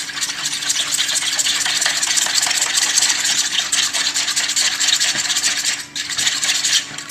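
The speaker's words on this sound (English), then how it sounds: "Now, I am going to continue to mix these ingredients." Cupcake batter ingredients, including oil, are stirred by hand in a bowl, giving a continuous close scraping, rubbing sound with slight rhythmic variation and no talking.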